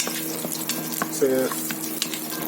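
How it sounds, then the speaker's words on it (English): Peppers popping and sizzling in hot oil in a pan while mutton dalcha is cooked, a steady close fry with a few sharp pops and stirring scrapes. "the peppers are popping out, so I think we are good"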